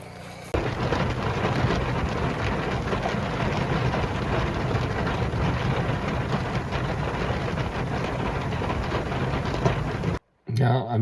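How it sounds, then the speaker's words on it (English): A thunderstorm rolls through a home construction site, with rain falling as a dense, steady hiss and low rumbling underneath, continuous for about ten seconds before a brief drop-out. "As you can see, we got some thunderstorms rolling through. It's raining right now"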